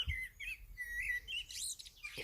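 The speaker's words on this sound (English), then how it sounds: "if you can hear me over that blackbird out there" A blackbird sings outdoors in a quick run of clear, fluting whistles and chirps, faint and somewhat distant, with no talking.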